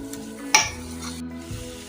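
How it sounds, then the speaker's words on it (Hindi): Carrot halwa khoa being stirred in a pan, a soft sizzling scrape with a sharp clink of the spoon against the metal early on, close and alone with no talk. "आपने इस तरह इसको मिक्स करते रहना है, ये साइड पे चिपके ना।"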